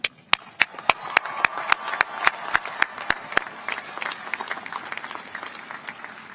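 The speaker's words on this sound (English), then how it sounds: "let the cheers and applause ring loud in this hour of celebration" Graduates and guests at the Berry College undergraduate commencement clap, and the sound starts with distinct sharp claps before thickening into a denser round of applause that then fades.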